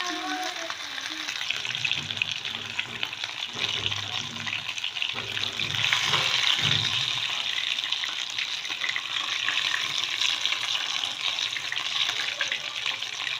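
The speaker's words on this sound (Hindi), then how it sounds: "3 से 4 मिनट हमने सिर्फ फ्राई करना है इसको" Potato tikki frying in a pan, a continuous bright sizzle with some clattering and stirring underneath, steady and close throughout.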